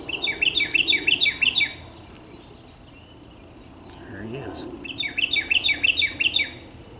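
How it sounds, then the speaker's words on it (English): A small bird sings loudly nearby in two bursts of rapid, repeated high chirps separated by a quiet pause. Someone speaks briefly between the bursts. "Loudest little bird you ever seen."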